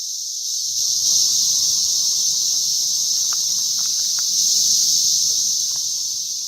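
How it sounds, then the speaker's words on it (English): A dense, high, continuous buzzing drone of cicadas fills the air, steady and loud, with a few faint clicks beneath it. "Can I play you a real clip of cicadas?"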